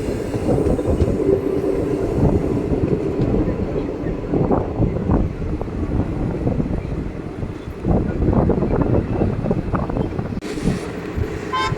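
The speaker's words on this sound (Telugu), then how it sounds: "మన సింహాద్రి ఎక్స్ప్రెస్ వచ్చేసి పికప్ అయితే అందుకుందండి" Simhadri Express picking up speed near a rail-cum-road bridge, a loud continuous rumble of wheels and carriages with wind buffeting and someone speaking over it.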